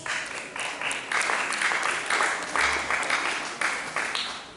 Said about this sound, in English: Let's clap for my interpreter, please.